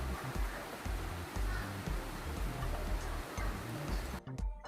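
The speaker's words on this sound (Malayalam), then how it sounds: "ഇതേ കണ്ടോ, നല്ല മഴയാണ് പുറത്ത്." Heavy monsoon rain falls outside in a steady, dense roar that fills the whole stretch, with a few sharper taps and clicks near the end.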